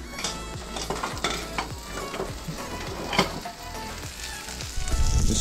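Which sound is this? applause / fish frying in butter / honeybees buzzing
fish frying in butter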